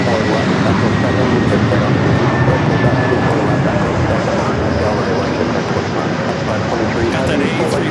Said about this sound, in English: WestJet heading back to Calgary